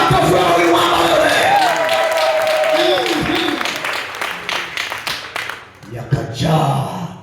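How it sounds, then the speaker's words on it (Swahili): An audience at a church sermon claps for a woman, a dense burst of applause that fades over several seconds while a preacher keeps talking over it. "Piga makofi wa huyu mama wewe."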